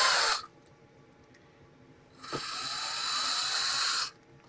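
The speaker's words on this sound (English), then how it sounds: "let's see whether I can do it with the drill." Electric power drill used as an overkill shortcut on a Flying Scotsman model, starting with a brief whir, stopping, then spinning up again in a steady high buzz for about two seconds before cutting off. No one speaks.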